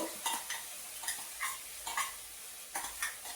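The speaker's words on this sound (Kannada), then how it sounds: "ಎಣ್ಣೆ ಹಾಕಿದ್ದೀನಿ ಎರಡು ಲವಂಗ ಹಾಕಿದ್ದೀನಿ ಒಂದು ಸಣ್ಣ ತುಳು ಚಕ್ಕೆ ಈರುಳ್ಳಿ ಹಾಕಿದ್ದೀನಿ ಒಂದು ದೊಡ್ಡ ಈರುಳ್ಳಿ ಈಗ ಶುಂಠಿ ಬೆಳ್ಳುಳ್ಳಿ ಪೇಸ್ಟು" Onion and ginger garlic paste frying in oil for spinach gravy, with a soft sizzle under about eight quick scraping stirs of a spoon in the pan, close and fairly quiet.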